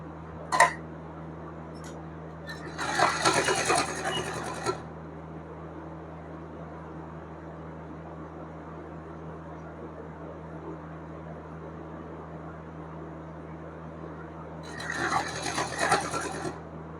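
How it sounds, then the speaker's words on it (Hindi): A sewing machine stitches a small Laddu Gopal dress in two short bursts of rapid close whirring, separated by a long stretch of quiet room hum and a few faint handling taps. "और यहाँ पर सिलाई लगाते जाएंगे"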